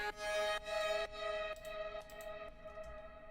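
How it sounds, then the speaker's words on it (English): A sustained tonal musical sample bathed in heavy reverb and echo, its chopped phrases repeating and smearing into long decaying tails. "I've done a massive low cut. I got high reverb, high delay"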